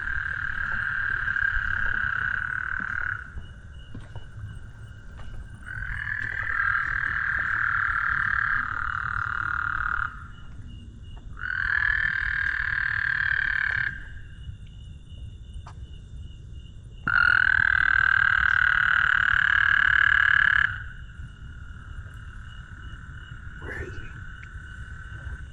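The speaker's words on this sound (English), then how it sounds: "I'm really getting into the frog territory now." Frogs croak in long, buzzing trills lasting several seconds each, repeating with pauses, loud and close against a low background hum during a nighttime walk in Dallas.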